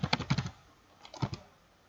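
Soft, quiet computer-keyboard typing: a quick burst of clicks, a pause, then a few more keystrokes, with no voices.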